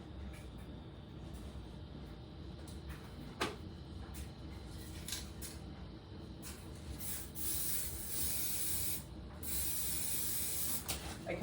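Aerosol spray paint hisses from a can during stenciling, several short bursts followed by a longer sustained spray, close and fairly quiet.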